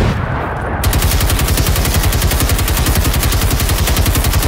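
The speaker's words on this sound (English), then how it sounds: "I'm gonna fire every last bullet out of this clip." Sustained automatic gunfire from the video game Generation Zero, a dense rapid rattle of shots that runs loud and steady almost the whole time after a brief lead-in.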